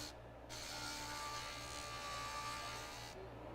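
A JOOLTOOL rotary grinder runs as a faint, steady whir with a buzzing edge while grinding a metal disc. The sound starts and stops cleanly and there is no talk.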